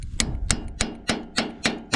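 A multi-size hammer taps on a 1941 John Deere tractor that has sat unused for 40 years, giving seven evenly spaced, sharp metallic knocks close to the listener.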